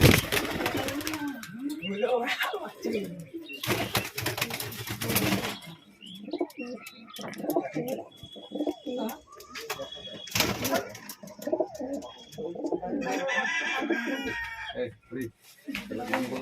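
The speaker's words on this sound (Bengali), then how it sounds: "ভাইয়ের কিছু লফটের পায়রাগুলো দেখানো যাক" Madras pigeons in a loft coo and flutter with other birds around them, including a rooster crowing and hens clucking, while people talk over much of it at close range.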